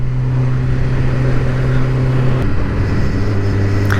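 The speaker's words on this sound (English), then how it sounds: "Oh, you can hear that induction a little bit. Oh, nice. A little whine then" Suzuki GSX-R 750 motorcycle ridden toward Camber Sands, its engine droning loud and steady with a sustained tonal induction whine over the wind and road rush, the pitch shifting slightly partway through.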